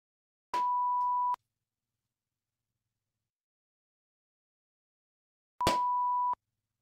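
Two steady electronic beeps, each under a second long and about five seconds apart, mark a recording for sync. They sound clean and isolated against silence, and any clap is barely noticeable.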